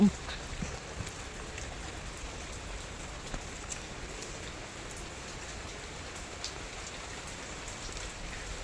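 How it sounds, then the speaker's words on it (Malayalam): Steady rain falls continuously outdoors during a monsoon-season garden harvest, a dense, even patter of drops with faint scattered taps and no talking. "അപ്പോൾ മഴയൊക്കെ പെയ്തു തുടങ്ങി"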